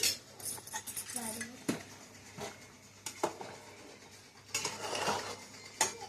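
A utensil scrapes and clinks against a pot as mutton soup is stirred at home, with scattered irregular metallic taps and a few louder knocks, fairly close and moderately quiet, while faint voices murmur in the background.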